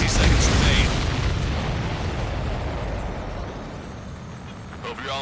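A supply ship blows up in a video game, a loud booming blast that decays into a long rumbling roar, with crackle and debris fading over several seconds.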